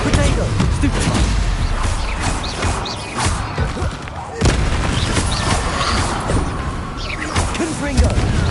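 Confringo and Bombarda spell blasts in Hogwarts Legacy during a fight against Inferi, rapid booming bursts crack one after another under a constant roar of combat, with a person talking over the noise.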